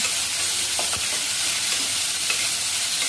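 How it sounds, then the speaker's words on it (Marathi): Tomatoes frying in oil in a pan give a steady, close sizzle with a few soft stirring scrapes, and no voices are heard. "टोमॅटो अगदी बारीक तेलामध्ये शिजवून घ्यायचं आहे."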